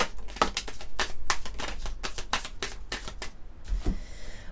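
Oracle cards for a tarot-style reading being shuffled and drawn by hand, a rapid series of crisp close slaps and riffling flicks in an uneven rhythm, with no talk.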